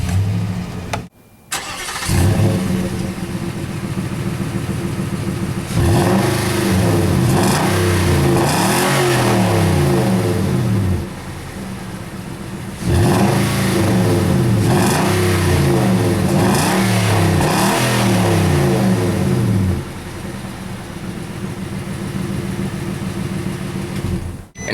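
A 2012 Nissan Titan SV pickup's V8 cranks and fires up, settling into a deep, steady idle, with the engine note swelling and easing in two long waves, close and loud.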